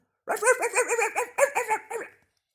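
A dog barks in a quick series of about eight close, fairly loud yips and woofs, pausing briefly midway, with no talking over it.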